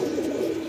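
Pigeons on a farm give a brief, soft, low coo, close and continuous for under a second.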